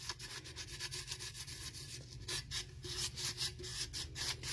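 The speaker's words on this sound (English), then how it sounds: "You can come in here with your sandpaper like this." Sandpaper rubbed by hand around the rim of a cupping set, a steady close scratchy rasping in repeated back-and-forth strokes, heard alone.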